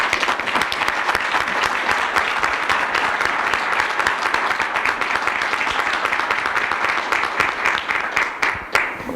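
A forum audience at a climate change and economic policy panel gives a departing speaker a long round of applause. The clapping is dense and continuous, then thins toward the end.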